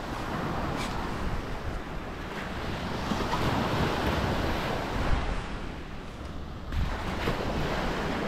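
Ocean waves on Panama City Beach, Florida, a steady wash of surf with wind buffeting the microphone, moderately loud and continuous with no speech.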